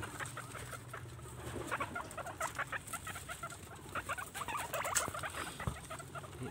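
Long-haired silkie guinea pigs chase each other around their cage while mating, with pattering feet and quick squeaks and chirps rising in a busy, close-up flurry.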